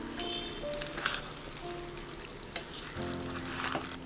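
Chicken curry with green peppercorns sizzling in a pot as garam masala is stirred in, a soft continuous frying hiss with occasional spoon scrapes, close but fairly quiet and without voices.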